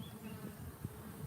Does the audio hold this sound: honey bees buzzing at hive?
yes